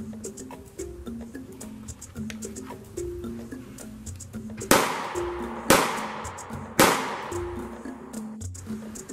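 Three loud, sharp pistol shots from a Taurus G2C fired at a target 10 yards away, evenly spaced about a second apart, each cracking over a steady background hum.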